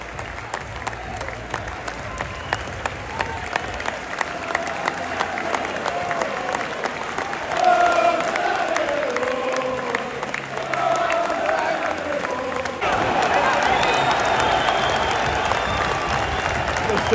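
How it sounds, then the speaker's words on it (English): Home fans at Kenilworth Road in Luton clap the players off the pitch at a Luton Town versus Brentford football match, a steady wash of applause and crowd noise that swells slightly toward the end. "The players get clapped off the pitch."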